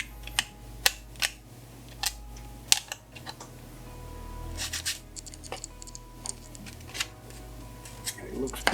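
Sandpaper rubs over a vacuum-formed plastic stencil for painting crankbait fishing lures, giving short, irregular scratchy strokes and clicks close by, with a soft voice faintly in the background.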